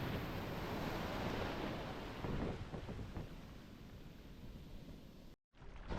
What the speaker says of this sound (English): And the waves are really